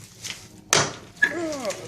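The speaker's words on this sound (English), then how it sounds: "And this is a different door opening" A restroom door at a Lake Eufaula State Park campground opens with a sudden loud thump and rush of noise, followed by a brief squeaky creak, close by and with no talk over it.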